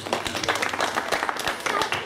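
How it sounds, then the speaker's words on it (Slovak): Audience applause at a live folk music performance, a steady patter of many hands clapping together, fairly loud and close, with some voices mixed in. "takže veľký potlesk"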